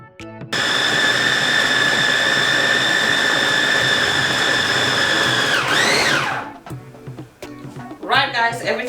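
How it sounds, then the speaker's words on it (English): An electric blender runs loud and steady, whirring through prawns and fish with spices, then spins down and cuts off before a voice begins talking over faint kitchen sounds. "everything is blended in the blender"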